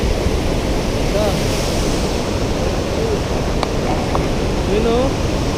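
Strong rushing water at Wawa Dam, a loud continuous roar that runs steadily throughout, with a few faint brief sounds on top of it.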